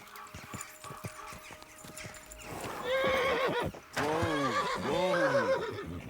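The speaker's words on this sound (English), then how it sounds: "Chill out, horse." A horse neighs loudly and repeatedly in the video game Kingdom Come Deliverance 2, with hooves clip-clopping on the ground at first, then drawn-out whinnies dominating the second half, close and clear.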